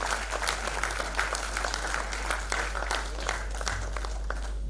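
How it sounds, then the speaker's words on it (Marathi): An audience at an award ceremony in Pune gives a dense, continuous round of applause, a steady wash of many hands clapping over a low electrical hum. "जोरात टाळ्या इकडे वाजवून बघा"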